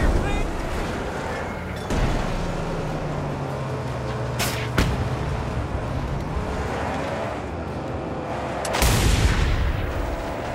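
A few sharp gunshots crack out during a vehicle convoy chase in Mad Max, standing out over constant loud engine roar and rumbling road noise, with a heavy blast near the end.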